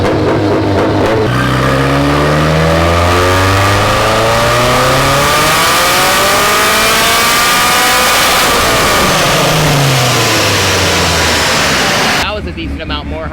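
A newly built car engine, boosted to 15 pounds, spins on a chassis dyno, revving hard and loud through a long pull, sweeping up, then dropping and climbing again before cutting off abruptly.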